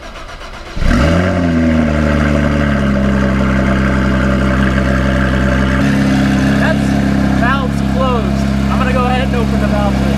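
A Porsche GT3 with a titanium exhaust cold starts with an abrupt, loud bark. It then settles into a steady, droning high idle, with voices talking faintly over it.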